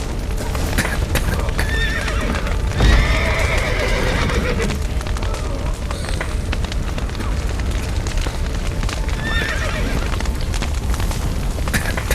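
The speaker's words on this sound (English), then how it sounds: "The horses!" Horses in The Witcher 3 whinny and neigh several times over clip-clopping hooves, with rumbling booms and the crackle of a burning building filling the background at close, loud range.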